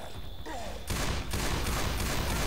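Rapid gunfire from Left 4 Dead 2 as players shoot at a Tank, a dense continuous burst of shots loud and close after a brief quieter lead-in.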